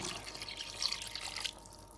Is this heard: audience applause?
no